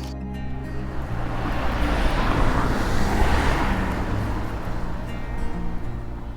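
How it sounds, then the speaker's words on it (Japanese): Car interior on a drive through the Slovenian Karst toward Škocjan Caves, with a steady, moderately loud road and engine rumble and broad tire hiss running without a break and no talk. "父と車でシュコツイヤン鍾乳洞に向かいます。"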